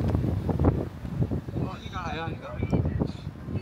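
Heavy wind buffets the microphone with a low roar while a person talks at a seaside park in Busan, South Korea, and a brief warbling tone rises in the middle.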